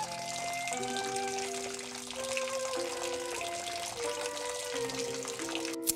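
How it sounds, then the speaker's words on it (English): Tap water runs over celery stalks being rinsed in a sink, a soft continuous splash under quiet background music. "Rinse well, under running water."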